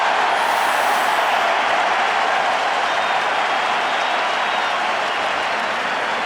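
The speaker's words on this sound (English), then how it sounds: "And the crowd showing its appreciation for this" A stadium crowd at a 2008 USC vs UCLA college football game applauds and roars in a loud, sustained wash of clapping and cheering that holds steady throughout without a break.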